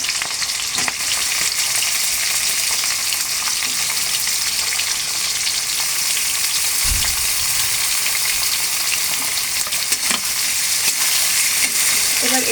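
Chopped onions fry in hot oil for a Mughlai chicken dish, giving a close, steady sizzle with occasional stirring clatter throughout.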